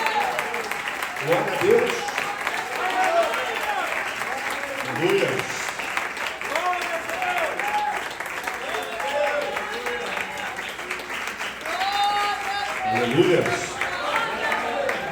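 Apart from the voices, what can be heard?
congregation applauding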